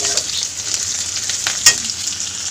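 Spices fry and roast in a hot pan, making a steady hissing sizzle with soft stirring scrapes and one sharper clatter near the end, close and without speech.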